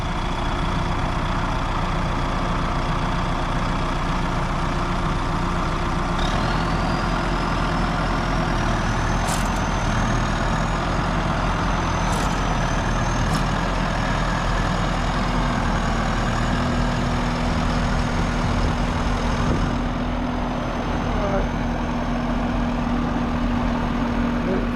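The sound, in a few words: tractor engine running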